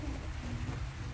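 Rain falling outside on a rainy day, a brief, faint, steady patter with a soft low rumble and no talking.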